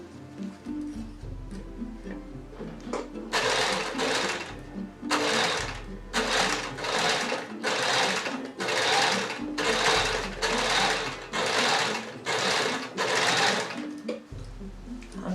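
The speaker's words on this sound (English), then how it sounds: "I'm gathering this up now because this machine doesn't seem to be doing a bigger stitch." A sewing machine gathering box pleat skirt fabric runs in repeated short bursts of rapid, loud stitching, separated by brief pauses, close up and without talk.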